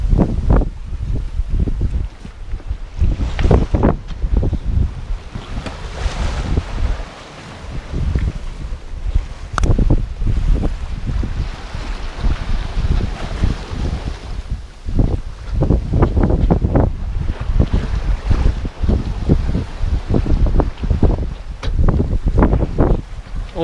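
A sailboat surfing down ocean swells off Morocco in strong wind: continuous loud wind buffeting and rushing water around the hull, with surging waves, steady and close throughout.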